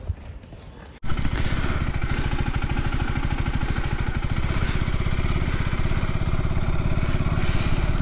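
A KTM ADV 390 motorcycle engine starts with a sharp burst after a quiet moment, then runs at a steady, loud, close idle with a fast, even pulsing thrum.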